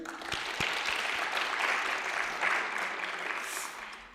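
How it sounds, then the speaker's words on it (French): Audience applause for a jury at a verbal jousting final, a steady wash of clapping held at moderate level throughout, with a few sharper individual claps near the start. "On peut encore les applaudir"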